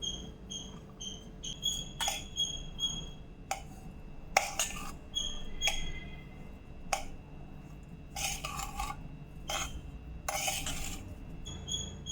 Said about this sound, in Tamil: எல்லாம் ஒன்றா நல்லா கலந்து விட்டுக்கலாம்